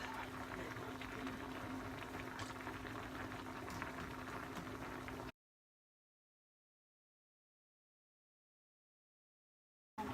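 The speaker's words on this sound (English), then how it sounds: "See how it's boiling like that?" Steady rolling bubbling of water boiling in a pot, continuous and close for about five seconds, then silence, with a brief return at the end.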